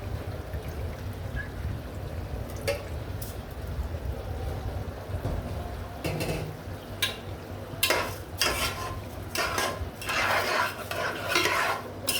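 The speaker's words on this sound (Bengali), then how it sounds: "বিরিয়ানি রান্না করব, আমি চালটি ভেজে নিব।" Rice for biryani is stir-fried in a pan, giving a steady close scraping and rustling with sharper clinks and stirring bursts toward the end, no talk.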